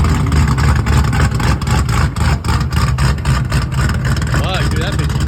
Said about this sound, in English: this is actually with the exhaust completely done, full straight pipe after the X pipe